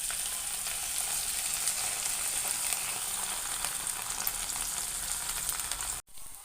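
Cauliflower fry (Gobi 65) pieces deep-frying in hot oil, a steady dense sizzle and crackle running loud and close throughout, cutting off sharply near the end.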